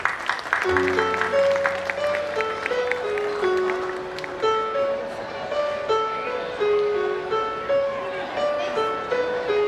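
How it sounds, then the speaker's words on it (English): A school alumni ceremony audience gives steady applause while sustained tones of music play over it, the clapping dense and continuous throughout. "please give a big round of applause"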